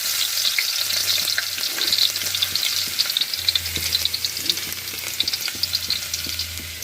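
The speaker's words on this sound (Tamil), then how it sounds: "எண்ணெய் நல்லா ஹீட் ஆகிட்டு இது கூட சின்னதாக நறுக்கின பூண்டு" Finely chopped garlic sizzles and crackles in hot oil for gobi fried rice, a steady bright frying hiss with occasional stirring clicks, close up and without talk.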